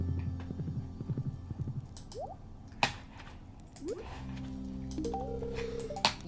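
Rhythmic horse hooves clip-clopping close by in Stardew Valley, with a horse's whinny and bright game-like chimes and tones layered over the steps.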